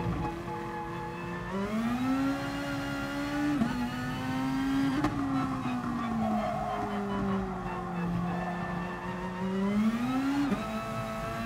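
A race car in the GT Sport video game, running on worn front tyres, spins and skids, its engine droning and swooping in pitch with tyre squeal, loud and continuous with no talk.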